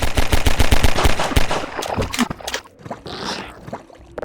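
Rapid bursts of gunfire from Half-Life 2 crack in quick succession, a dense rattling volley that thins out into a few scattered shots and a brief hiss.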